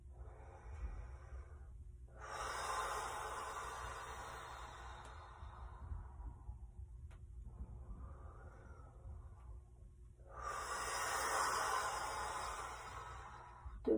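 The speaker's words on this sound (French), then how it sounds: "Cette respiration intense du souffle, le souffle à la terre" Intense, forceful breaths are blown out during a shamanic breathing practice, two long loud exhalations with a softer breath between them, close to the listener and without speech.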